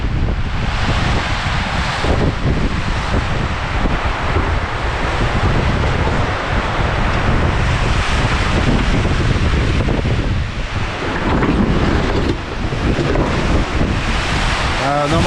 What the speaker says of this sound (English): Oh, it's a bit wet and windy at the moment.